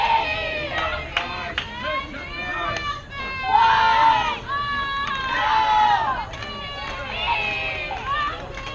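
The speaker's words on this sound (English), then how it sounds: "You hear the crowd involved in the game." Spectators at a 14-and-under girls' youth softball game cheer and shout continuously, a dense, lively crowd roar with excited voices rising and falling throughout.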